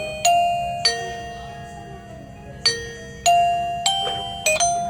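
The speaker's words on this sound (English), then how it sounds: "there's a button on the side that will change the chime sound" Chime tones from an Anker Eufy 2K video doorbell's indoor chime, several bright ding-dong notes ringing out in separate bursts, loud and close, each decaying over a faint background hum.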